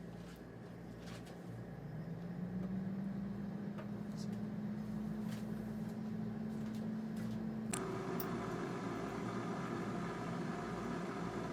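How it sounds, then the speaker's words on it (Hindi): An air fryer frying chips runs with a steady whirring fan hum that rises slightly in pitch partway through, with a few faint clicks and ticks over it. "अब इसे एयर फ्राई करते हैं।"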